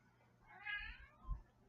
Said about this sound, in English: Hungry cat.